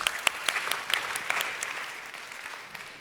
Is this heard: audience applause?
yes